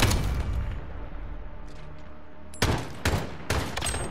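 AK-47 fire in the Modern Warfare alpha on PS4, a rolling automatic burst fading into a quieter lull, then three sharp, loud separate shots close together near the end.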